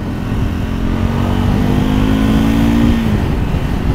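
Engine of a 2024 Triumph Scrambler 400 X motorcycle with a jerky throttle, a loud steady rumble up close whose pitch climbs slightly and then drops near the end.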